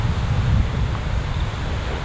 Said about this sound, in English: Man, this wind is messing me up.